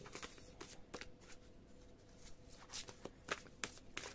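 Oversized druid tarot cards being handled and shuffled, soft papery riffles and snaps in a loose irregular rhythm, close and quiet with no talking.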